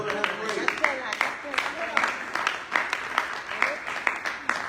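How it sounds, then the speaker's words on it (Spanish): A church congregation applauds during a bilingual sermon, with scattered claps mixed through a busy hall and voices speaking over it. "Denle un aplauso al Señor."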